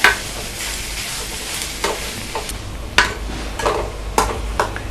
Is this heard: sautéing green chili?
yes